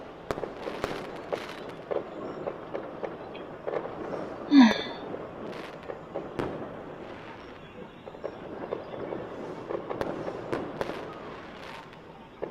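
Fourth of July fireworks explode outdoors, heard from indoors as scattered dull booms and crackles, one louder burst near the middle, with a low rumble in the background.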